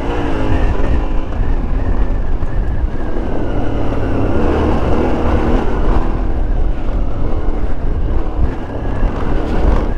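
A new 2022 Yamaha Ténéré 700 motorcycle being ridden during break-in, its engine droning steadily under heavy, continuous wind rush against the microphone, loud and close throughout.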